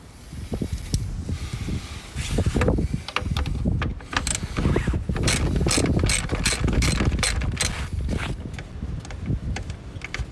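A ratchet clicks steadily and rapidly while backing out screws from the front fender of a Jeep JL Wrangler, close and continuous with a few brief pauses.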